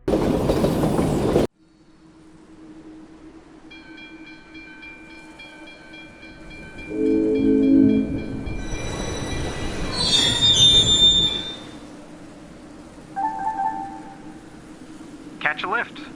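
A cargo train rolls along rails through different zones, its wheels squealing in long sustained tones over a steady rumble, with bursts of louder clatter and screech midway and a brief loud noise at the start.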